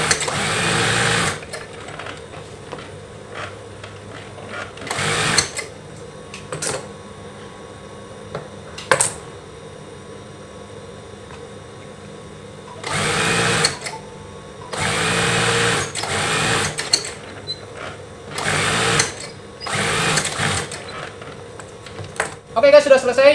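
A sewing machine stitching pillowcases runs in repeated bursts of rapid mechanical whirring, loud and close, separated by short quiet pauses and occasional clicks.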